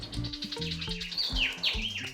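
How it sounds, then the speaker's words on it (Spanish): A small bird gives a warning call in the forest at a cave near Morrocoy, Venezuela: a rapid run of close, bright chirps, then several sweeping, descending whistled notes. "¿Qué pajarito es ese? Está advirtiendo a los otros que están allá que estamos entrando."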